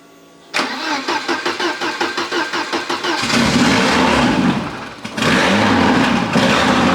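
A backyard racecar engine, leaking fuel, cranks with rapid rhythmic pulses for about three seconds, then catches and roars loudly to life, dips briefly, and revs back up at a strong, rough idle.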